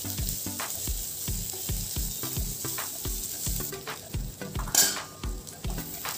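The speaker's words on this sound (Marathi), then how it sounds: "तो तेलामध्ये आपल्याला हे कांदे व्यवस्थित फ्राय करून घ्यायचे आहे।" Onions fry in hot oil with a steady sizzle while a utensil stirs them in a quick, regular rhythm of scraping strokes against the pan. The stirring sounds close and fairly loud, and no voices are heard.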